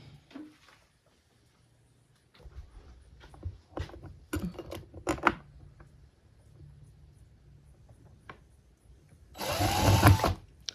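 Short bursts of a power drill whirring intermittently at close range, separated by clicks and handling noises, ending in a louder sustained buzz.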